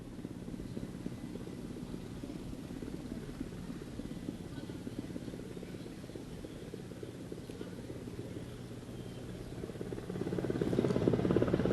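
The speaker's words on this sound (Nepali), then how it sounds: "यी दुईवटा हेलिकप्टरहरू बिस्तारै मैदानतर्फ पूर्वी दिशाबाट आउँदै गरेको हामीले देखेका छौं।" Two military helicopters approach the parade ground from the east during a ceremonial flypast, their rotors forming a steady, distant droning rumble that swells louder near the end.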